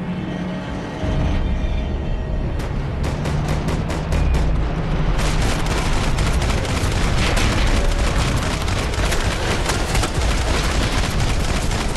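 Dense gunfire in Max Payne 3: rapid, loud bursts of automatic shots and heavy booms crowding together into a continuous fusillade, with no talk over it.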